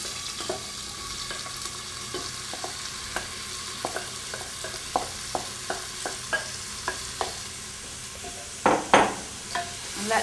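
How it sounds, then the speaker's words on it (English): Roughly five chopped onions hit hot oil for a lamb shank stew, a steady sizzle broken by regular scraping stirs and a louder clatter of the pan near the end. "now with the oil still hot, I'm going to put in a lot of onions"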